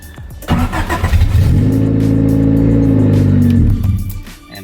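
A Honda Civic EF with a freshly swapped manual gearbox cranks briefly, catches and fires, then holds a loud, steady rev close by before settling back down.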